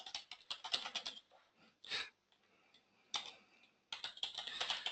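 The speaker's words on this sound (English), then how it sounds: "So start typing away" Keys clatter on a computer keyboard while a search is typed into Google, quick bursts of close tapping broken by short pauses, with no talk.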